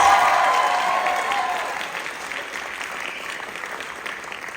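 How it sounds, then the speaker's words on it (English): A high school variety show audience gives another round of applause for activity letter recipients, loud at first and then thinning and fading over several seconds. "One more round of applause for our activity letter recipients."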